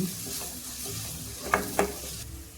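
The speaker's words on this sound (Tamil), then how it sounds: "இது எல்லாத்தையும் நல்லா ஒன்று சேர ஒரு நிமிஷம் வதக்கி விட்டுக்கலாங்க." Coriander is sautéed with a garlic mixture in a pan, giving a steady close sizzle and frying hiss with a couple of sharp spatula scrapes and taps, and no talking.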